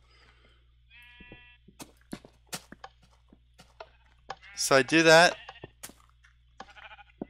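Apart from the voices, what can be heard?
sheep bleating in Minecraft-like video game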